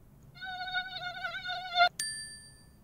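A high, thin mosquito whine drones steadily for about a second and a half, then cuts off abruptly with a sharp click and a ringing tone.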